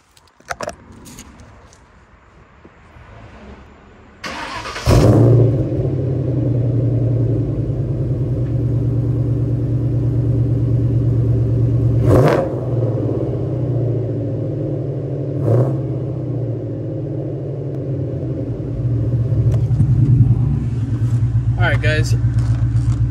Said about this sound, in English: So here is a cold start on a 2001 Mustang GT.